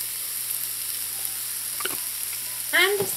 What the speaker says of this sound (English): Now I'm just going to allow this to saute in here until all of those vegetables are very tender.